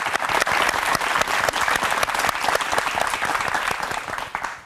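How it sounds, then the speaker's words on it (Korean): Loud, sustained applause from an event audience welcoming a young company CEO to the stage at a mock crowdfunding pitch show, dense clapping filling the whole stretch with no voice over it. "큰 박수로 환영해 주십시오"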